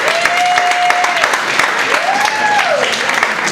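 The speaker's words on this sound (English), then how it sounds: "Give yourselves a round of applause for coming out." Applause from a comedy club audience at the start of a live show, steady clapping across the room mixed with a couple of whistles or cheers, fairly loud and continuous.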